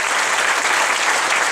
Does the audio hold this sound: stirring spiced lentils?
no